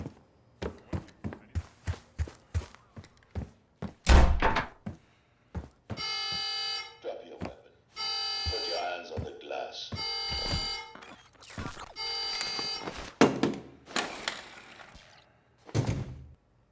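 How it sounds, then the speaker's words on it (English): A Call of Duty alarm being tripped blares in loud, repeated harsh buzzing bursts, mixed with sharp thuds, footsteps and impacts. "Trip the alarm. I'll be ready."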